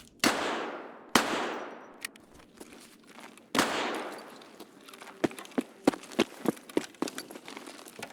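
Gunfire from an enemy player in the video game Escape from Tarkov, set on the Factory map: a few sharp, loud shots with echoing decay, then a run of quicker, thinner cracks and clacks, with no talking.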